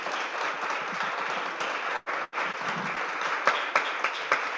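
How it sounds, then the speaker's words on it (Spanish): An audience at a public conversation on addiction gives sustained, even applause that briefly drops out for a moment, then continues with a few sharper, louder individual claps near the end. "Un aplauso para Efren"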